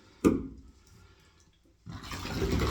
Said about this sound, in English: dump that water out